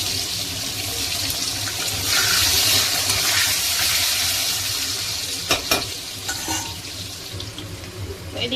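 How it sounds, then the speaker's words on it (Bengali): Potatoes fry in hot oil in a wok, giving a steady close sizzle with stirring scrapes and a few louder clatters near the end, no voices over it. "কড়াই এবারে আলুগুলো ভেজে তুলব"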